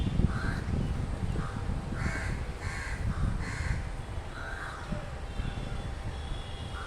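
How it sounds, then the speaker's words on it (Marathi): A crow caws in a series of several harsh calls, fairly close and clear over low outdoor background noise in a natural setting with tall jamun trees. "हा बघा हा कावळा आला आहे"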